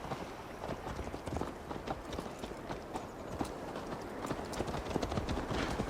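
Horse hooves gallop steadily in Assassin's Creed Valhalla, a fast rhythmic clip-clop of repeated hoof strikes over a constant rushing ground noise, held at a moderate level throughout.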